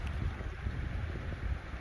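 Wind blowing at sea, a steady low buffeting rush with faint hiss, no talking.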